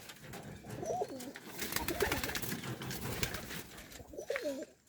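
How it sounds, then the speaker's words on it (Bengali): Pigeons kept in an enclosed rooftop loft coo repeatedly in soft, rolling phrases, several calls overlapping against a steady background of rustling and fluttering. "তো আমি আমার কবুতরগুলো আপনাদের দেখাবো।"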